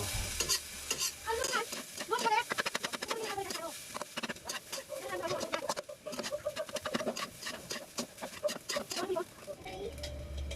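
Yangchow veggie fried rice with hotdog being stirred in a pan, a busy run of scraping, clattering spatula strokes over a steady sizzle, close and continuous.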